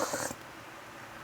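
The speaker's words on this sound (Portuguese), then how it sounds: "Se vocês ouvirem um miado de gato aí" A single short cat meow, close and clear at the start, followed by quiet room tone.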